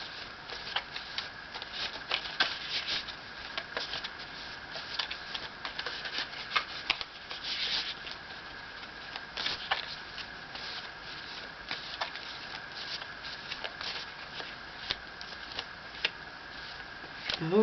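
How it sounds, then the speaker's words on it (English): Moon Oracle cards are shuffled for a full moon tarot reading, a steady riffling and soft slapping of card stock that runs continuously at close range with no voices. "I'm going to pull some Moon Oracle cards and see which ones come up in the lunar influences for this full moon"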